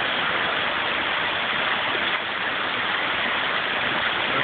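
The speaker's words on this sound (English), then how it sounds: "Water boils." Water rolling over at a full boil, scum foaming up and spilling over the rim, a steady dense rushing hiss that stays loud and even throughout with no pauses.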